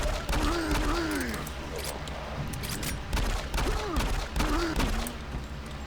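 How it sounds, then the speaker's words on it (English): Rapid gunfire crackles from shooting enemies in the video game Doom 3, repeated bursts over a few seconds mixed with creaking game effects and creature cries. "I'm gonna body shot these guys and see if there's a difference."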